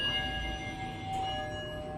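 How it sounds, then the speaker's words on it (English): Chime of a 2016 Schindler 3300 machine-room-less traction elevator, heard outside the car at a residential facility: a steady, quiet bell-like tone sustained over a low room hum with no talking. "I just want to get a sound of that chime"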